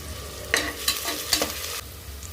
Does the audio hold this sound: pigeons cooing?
no